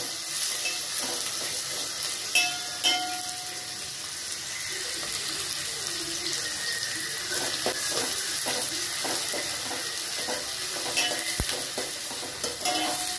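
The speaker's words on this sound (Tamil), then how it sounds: "இது நல்லா வதங்கட்டும்" Curry leaves sautéing in a pan for Chettinad crab masala, giving a steady broadband sizzle with frequent stirring scrapes and occasional light clinks throughout, close and continuous with no talk.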